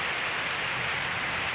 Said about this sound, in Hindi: देखिए ये सब बारिश जो है ना देखिए बिल्कुल ही तेज़ी से पड़ रही है